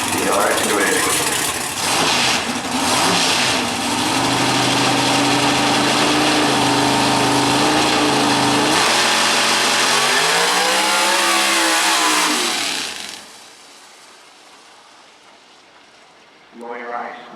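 A Camaro drag racing car at Maryland International Raceway during a PDRA event roars loud and close, with heavy revving and a rising pitch as it pulls away, then fades out. A brief engine burst returns at the end, with announcer talk throughout.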